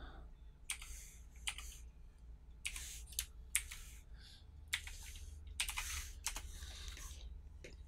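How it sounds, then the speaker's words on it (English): Password being typed on a computer keyboard, with irregular bursts of crisp key clicks and brief pauses, close and fairly quiet over a low steady hum. "I need to type in the password because it kicked me out."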